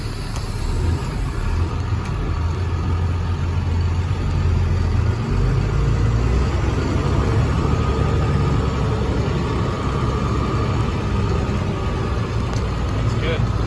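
A 2004 International truck with a six-speed transmission drives along in gear, its engine giving a steady, loud low rumble that holds throughout with no break.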